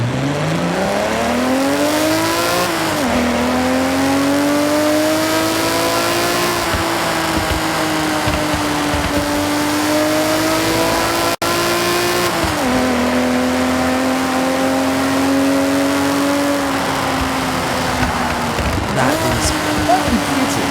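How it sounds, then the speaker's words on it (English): A 2000 GTR with a race exhaust in Forza roars while driving, revving up through several gear changes with pitch sweeps and sharp drops, loud and continuous, with a voice speaking intermittently over the engine. "if you want your car to sound like this, then get a 2000 GTR and install a race exhaust onto it"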